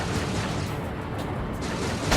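A loud, sustained explosion rumble from the video game Ace Combat 7: Skies Unknown, with heavy low-end roar, continuous throughout, ending with a fresh burst.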